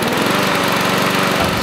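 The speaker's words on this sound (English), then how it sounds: "it's mowing the lawn." A lawn mower runs steadily while cutting grass, its loud, close engine drone holding constant throughout with no pauses or speech.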